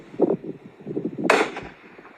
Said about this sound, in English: see he using tracer rounds